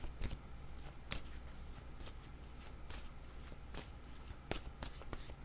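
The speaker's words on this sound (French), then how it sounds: "Je vais déposer une carte" Cards are handled on a tabletop during a game, with a playing card laid down among a steady run of soft, papery snaps and slaps, quiet and close with no speech.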